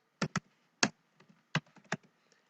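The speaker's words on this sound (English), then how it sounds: "So let me just type calendars here in search bar." Fingers typing on a computer keyboard into a search bar, a handful of sharp, close key taps in irregular pairs and singles, quiet overall, with no talking.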